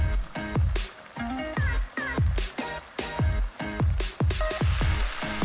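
Braised lotus root slices simmering in a reducing sauce in a pan, steady crackling sizzle with frequent pops and bubbling bursts, close and moderately loud, no talk.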